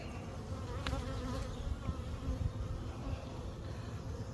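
Honeybees buzz in a disturbed hive opened for inspection, a dense continuous drone close to the microphone with a few brief knocks and clicks of equipment, quiet overall and with no talk.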